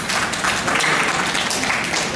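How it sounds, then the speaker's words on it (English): An audience at a children's summer camp closing day claps together, a dense, even burst of applause that holds steady at moderate loudness. "let us clap again"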